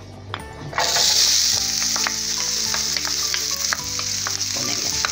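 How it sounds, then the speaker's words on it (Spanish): Chopped onion cubes drop into well-heated oil and set off a steady, close sizzle and crackle of frying, with occasional light utensil taps; no voices. "Una vez que calentamos bien el aceite, procedemos a ponerle la cebolla."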